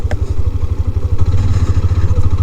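A Hero Xtreme 125R motorcycle rides off-road through slick mud in fourth gear, its engine thrumming in a steady, loud low pulse with rattling chassis clatter throughout.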